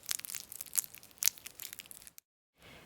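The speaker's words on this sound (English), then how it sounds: "Now take a banana slice and press into it. Mine makes a soft squish sound." A soft banana slice pressed by hand gives a series of close, quiet squishing and crinkling crunches that stop abruptly, followed by a short silence and then faint background hiss.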